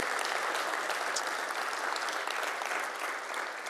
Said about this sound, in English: So a big warm round of applause for all of those people.